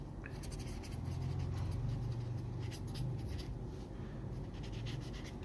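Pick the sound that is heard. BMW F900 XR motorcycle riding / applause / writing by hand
writing by hand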